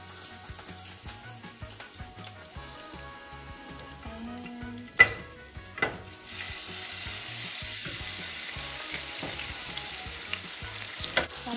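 Garlic sizzling steadily in oil in a pan, with a couple of sharp clinks and stirring scrapes partway through.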